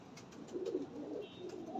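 White gold pigeons cooing softly in a loft, a few low rolling coos at moderate distance with no talking.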